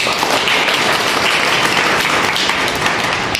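Loud, sustained applause from an audience welcoming guests at a women's welfare program on pension schemes for widows, a dense wash of clapping that runs the full length without talk.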